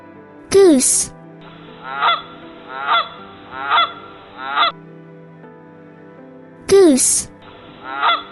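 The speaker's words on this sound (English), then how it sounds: "Goose." Goose honking on a farm: two sharp, loud honks separated by runs of shorter, evenly spaced nasal calls, close and clear with no speech over them.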